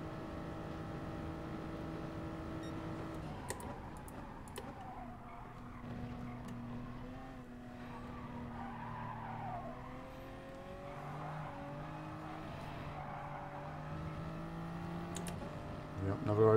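Race cars in Gran Turismo Sport drone along with steady engine tones that rise and shift as cars close in and pass, with a faint tyre noise at times and talk over the top.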